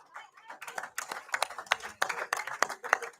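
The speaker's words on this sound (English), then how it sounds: "big round of applause for these two gentlemen that came up here" Audience applause for two guests at a live baseball and NFL draft day gathering, a scattered burst of hand claps that swells and continues steadily, fairly close, with voices murmuring underneath.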